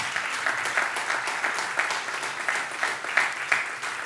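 A church congregation breaks into steady applause, dense and sustained hand clapping filling the room for several seconds without any speech on top.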